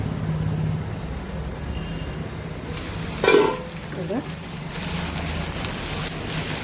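Food fries in hot butter in a home kitchen pan with a steady, close sizzle. A brief clatter of stirring cuts in midway, then the even hiss continues.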